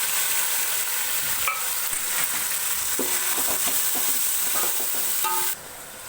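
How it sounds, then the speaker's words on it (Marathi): Chopped tomatoes hit a hot pan of tempering spices with ginger, setting off a bright, steady sizzle while a spoon scrapes and clicks in a few stirring strokes close by. "हे बघ, मी टोमॅटो पण टाकते आता."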